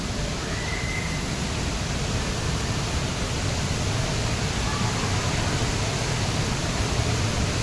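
Savatkada waterfall near Kolhapur, a dense, unbroken roar of falling water filling the whole scene at steady loudness.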